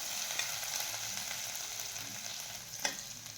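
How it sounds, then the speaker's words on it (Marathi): Crushed green chilli, ginger and garlic thecha fries in oil for Shegaon kachori filling, a constant bright sizzle and crackle close up with a single sharper spatter near the end, no talking. "हा ठेचा आपल्याला छान यामध्ये तळून घ्यायचा आहे"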